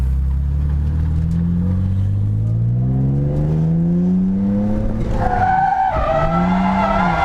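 A car at a drift school event revs as its engine climbs and falls, then a handbrake entry sets the tires squealing loudly in a long skid near the end.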